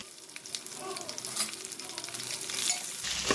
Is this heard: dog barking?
no